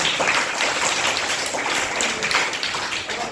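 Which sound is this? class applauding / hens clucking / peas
class applauding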